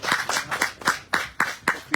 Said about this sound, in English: So clap it up for the Most High.